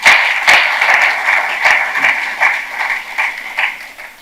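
A conference hall audience at a capital markets day presentation breaks into applause, a full round of many people clapping with slight swells and dips, loud and close, with no talking over it.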